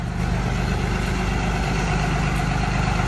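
A hotshot truck's engine idles in cold weather below freezing, a loud, steady, low rumbling drone with even pulsing, close by and unbroken with no voices.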